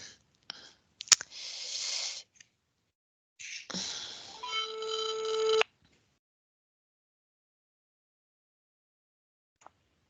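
A telephone rings out twice in short bursts during an outgoing call, with clicks between the rings and then silence; the sound is fairly faint and nobody speaks.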